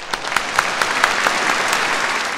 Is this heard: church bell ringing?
no